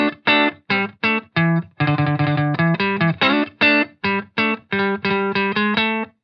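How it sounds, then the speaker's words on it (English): Guitar riff played without ghost notes, a crisp distorted electric tone in short, clearly separated chord stabs with a funky, choppy rhythm and sharp gaps between the hits, loud and alone. "If I were to play the riff without any ghost notes, it would sound something like this."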